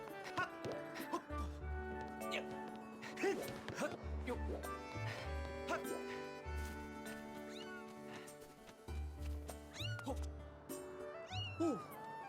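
A cat meows repeatedly in the video game Zelda: Skyward Sword, with several clear mews over game music and jingling sound effects, and a person talks over it.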